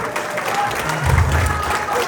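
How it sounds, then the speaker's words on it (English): Crowd applause at a Valentine's Day show in a roadhouse, a moderate steady patter of clapping with a low rumble of voices underneath. "round of applause"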